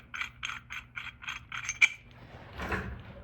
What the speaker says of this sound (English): I'm just going to unscrew that from there